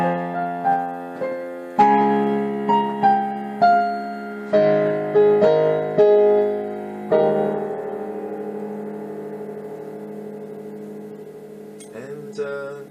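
A solo piano plays a passage from a song, a melody of separate struck notes over sustained chords, with notes ringing and fading toward the end before a few higher notes come in. No voice is heard.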